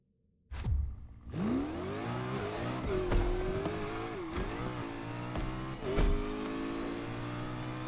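A car in the racing game Need for Speed Unbound starts up and accelerates hard, engine revving loudly with rising pitch through several gear shifts, a continuous close roar with brief whooshes.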